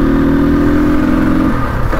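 A motorcycle engine runs loud and close at the start of a ride, a steady putter that sputters and breaks up near the end, with no choke on.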